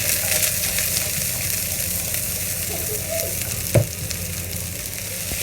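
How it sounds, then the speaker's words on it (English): Onion, carrot and celery sautéing in a pan for Chinese-style black pepper beef, a loud steady sizzle close by with one brief clatter partway through, no voices. "we have to saute the onion and carrot, and as well the celery"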